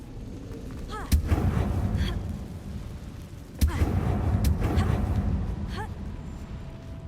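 A Confringo blasting spell goes off twice in Hogwarts Legacy, each a sharp explosive crack followed by a long rumbling roar that fades into the game's ambience.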